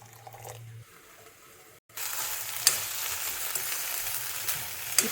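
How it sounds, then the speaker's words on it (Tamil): Sliced okra with onion sautés in a pan, quiet at first with a brief low hum, then a bright continuous sizzle kicks in after a short gap, with a few sharp clicks of stirring. "இப்போ வெண்டைக்காயெல்லாம் நல்லா வதங்கியாச்சு."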